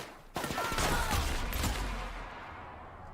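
Video game gunfire erupts in a sudden loud burst of several overlapping shots, then rumbles and fades away over the following seconds, with no speech.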